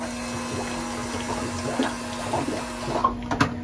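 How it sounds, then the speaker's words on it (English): A boat's air-conditioning system pump runs with a steady hum while water flows and gurgles through the line, close and continuous, with a few small clicks near the end and no talk. "you'll hear the pump start, and you can see it already flowing"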